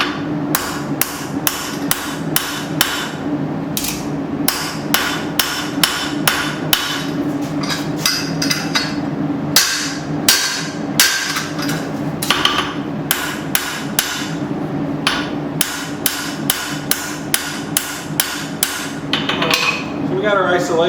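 Heavy, sharp hammer blows ring out in a steady, rapid series as a file knife blade is forged with a guillotine tool, each strike loud and metallic over a constant background hum.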